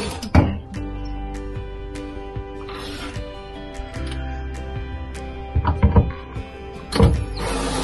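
Screws being backed out of RV table brackets with a power driver, giving short whirring bursts and metallic clicks and rattles at close range, separated by quieter pauses.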